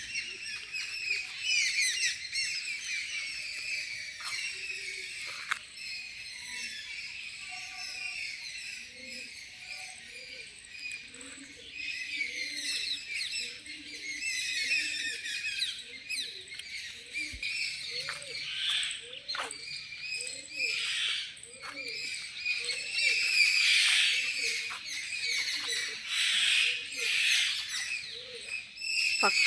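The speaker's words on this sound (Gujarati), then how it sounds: "પક્ષીઓના કલરવથી મસ્ત મજાની સવાર પડી ગઈ છે." Morning birds chirp in a rural setting, with dense high twittering over a steady insect-like trill and repeated short calls continuing throughout, moderately loud and fairly close, with no voices.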